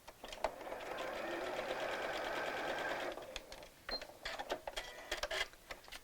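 Sewing machine hemming the tiny sleeve of a Barbie doll dress, a faint, steady buzzing run of rapid stitches lasting a few seconds, followed by scattered clicks and light handling of the machine.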